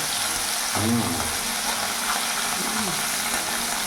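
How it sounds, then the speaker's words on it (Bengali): Fresh tangra fish hit hot mustard oil in a pan, giving a steady broadband sizzle that runs the whole time, with a few low tonal sweeps and faint voices in the background. "তেল গরম হয়ে গেছে, এবার ট্যাংরা মাছগুলো দিয়ে দেবো।"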